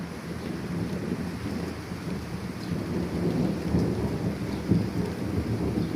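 A thunderstorm in Krasnodar Krai rumbles steadily with heavy rain and gusting wind, low thunder rolling throughout and a sharper crack near the end, loud and close with no voices.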